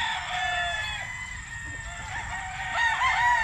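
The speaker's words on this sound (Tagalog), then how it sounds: "Ang gaganda ng mga manok dito" Roosters and chickens at a gamefowl farm of banded stags, several overlapping crows and clucks at moderate distance, with one rooster crowing louder near the end over a steady background of farmyard noise.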